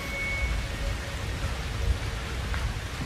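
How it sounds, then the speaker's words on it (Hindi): Blood rain falls in the video game Outlast 2 as a steady, dense hiss of rainfall with faint low rumbles underneath. No one speaks. "खून की बारिश हो रही है यार"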